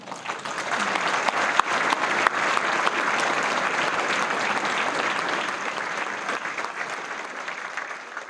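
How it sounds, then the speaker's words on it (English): A large seated audience at an awards event applauds for the honoree Richard P. Kughn of Lionel trains, a full, even wash of clapping that holds steady for several seconds. "let's give a round of applause for our next award recipient, Mr. Lionel himself, Richard P. KUGHN"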